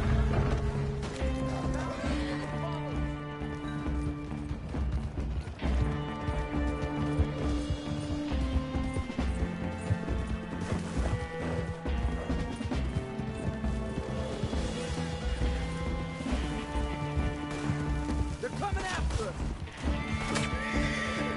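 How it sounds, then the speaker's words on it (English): In the video game Red Dead, a horse gallops with steady clip-clop hoofbeats and neighs amid loud game music and action sounds, running continuously throughout. "Get on the horse!"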